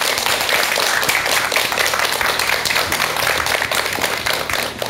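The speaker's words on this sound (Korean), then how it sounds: "여러분 박사님께 큰 박수 한번 부탁드리겠습니다" An audience applauds a doctor after a lecture on death: a loud, dense, continuous burst of many hands clapping close by, holding steady for several seconds with no voices over it.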